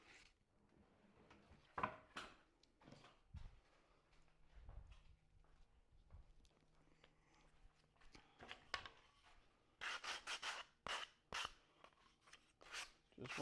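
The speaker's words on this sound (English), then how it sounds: "I'm going to clean them up with my sanding pads here." Sanding pad with 120 grit rubbed along the edges of 1/4 inch plywood for a wooden cube, giving close, quiet scratchy rasping strokes in irregular bursts, busier and louder toward the end, with some handling knocks and no talk.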